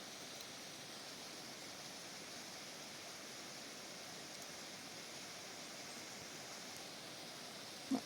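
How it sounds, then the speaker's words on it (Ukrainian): Steady broadband rushing of falling water, a distant roar of Sopit waterfall in the Carpathians with no voices, constant and even throughout. "Вже видно водоспад."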